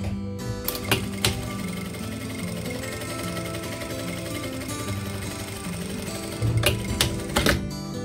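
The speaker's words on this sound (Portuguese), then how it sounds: "E nessa parte de cima a gente vai passar uma costura só aqui em cima." A sewing machine stitches a single top seam on a fabric clutch bag, a steady rapid mechanical chatter running throughout with a few louder knocks near the start and end.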